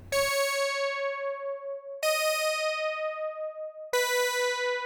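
A Serum synth pluck lead built from two saw waves with an envelope on the filter cutoff plays three bright, buzzy sustained notes, each starting with a sharp attack and pulsing as it holds, with no one speaking.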